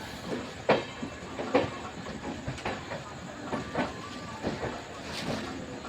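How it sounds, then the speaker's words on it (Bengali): A train slowly pulling into Howrah Junction station, with a steady rumbling hiss and irregular clanks and clicks of the wheels over many tracks, heard from onboard at moderate level. "আমাদের ট্রেনটি আস্তে আস্তে হাওড়ায় ঢুকছে"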